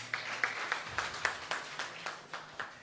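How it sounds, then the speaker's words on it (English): Audience at a national secondary schools moot court competition final claps briefly, a sparse patter of separate hand claps spaced steadily across a few seconds at moderate distance, with no talk over it. "Let us clap for them, guys."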